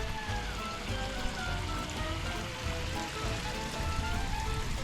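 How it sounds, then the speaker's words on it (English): A river beside rice fields near the Ubud monkey forest in Bali rushes with a steady, even wash of flowing water, continuous and fairly close. "And on this side is like a river."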